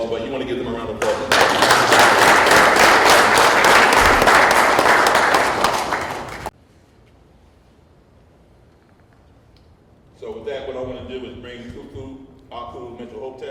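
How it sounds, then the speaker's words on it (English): An audience at a Restoring Ma'at elders' honoring event breaks into a loud, dense round of applause lasting about five seconds, then it cuts off to near silence before voices start talking. "you want to give them a round of applause"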